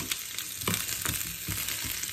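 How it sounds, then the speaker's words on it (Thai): Fish sizzles and spits as it fries in oil in a hot pan in a home kitchen, a steady crackling hiss with a few louder bursts spaced through it. "ต่อไปเราก็จะทอดตัวปลา"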